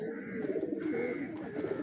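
Breeder pigeons cooing, a low, continuous throaty burble from birds close by, steady throughout with no talk over it.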